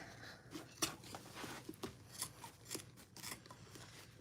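Scissors snip repeatedly through handbag-making material, a steady series of close, crisp cuts with rustling between them.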